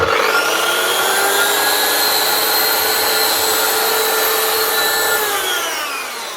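A Mafell MT55 CC plunge saw, just repaired after failing to start, spins up and runs steadily with a loud whining motor and rising harmonics, then begins to wind down at the end, with no voices.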